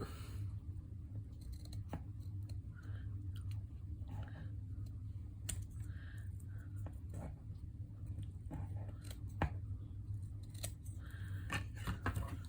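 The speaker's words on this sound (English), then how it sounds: "Trim it up just a bit." Scissors trim craft material for a heart dangle art project, giving a string of close, crisp snips and clicks over a low background hum, with no talk.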